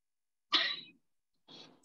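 A single sharp human sneeze bursts out close and fairly loud, followed after a second by a softer, shorter sniff or breathy exhale, in otherwise quiet surroundings.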